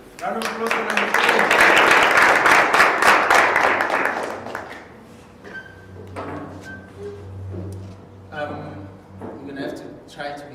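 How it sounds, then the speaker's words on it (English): A youth event audience claps for a speaker, a swelling round of applause that peaks and fades after about four seconds, followed by scattered claps, knocks and talking in the room. "Round of applause for number 3."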